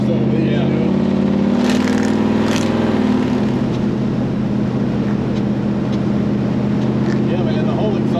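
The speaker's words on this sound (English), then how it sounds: "the whole exhaust note at this RPM is totally different" A hot rod Chevrolet Squarebody truck's engine roars loudly and steadily at high revs with a deep, rumbling exhaust drone that holds throughout, sounding close and powerful.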